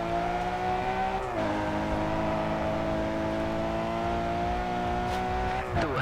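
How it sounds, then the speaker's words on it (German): Race car engine in the video game GRID 2 holding a sustained, droning exhaust roar at steady revs, with a brief pitch drop partway through and a short dip near the end. "Es ist ja Auspuff röhrt und wackelt sich tot und die Karre beschleunigt und zieht es einfach nur durch."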